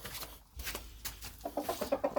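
Hens clucking nearby while grazing, in a quick series of short calls, growing more frequent toward the end, with some rustling in the background.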